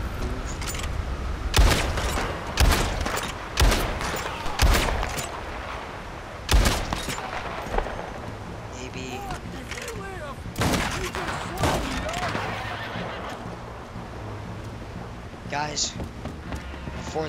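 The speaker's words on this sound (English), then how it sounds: "Maybe can I, like, shoot it with my gun enough times" Gunfire from a gun in a video game, sharp repeated shots in bursts over continuous game sound, with a person talking throughout.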